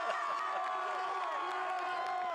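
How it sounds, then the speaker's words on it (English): Student section crowd at a high school football game, Abington Heights vs North Pocono, cheering loudly and steadily with many overlapping voices and shouts throughout. "I want to hear the cheer."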